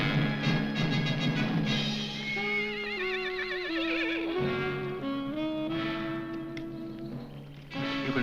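Horses neighing in an old Western film scene, a long, loud whinny with wavering pitch that rises and falls over several seconds, heard close and alone with no talk.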